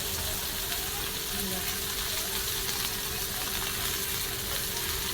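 Mandeli fish fry in a pan with a loud, dense, unbroken sizzle that stays close and constant throughout, with no voices.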